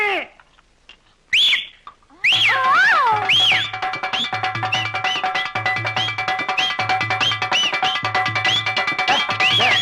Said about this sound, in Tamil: விசில் அடிக்காதடா